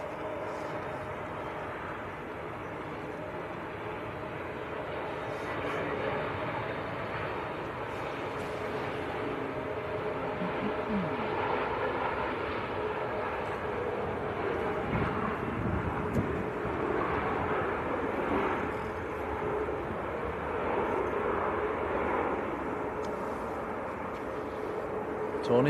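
An Airbus A321neo airliner at Manchester Airport gives a broad, sustained engine roar that swells and fades gently, with wind buffeting the microphone.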